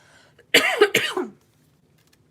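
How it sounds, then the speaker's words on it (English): Two harsh coughs in quick succession, close and loud, then quiet. "that cough, man"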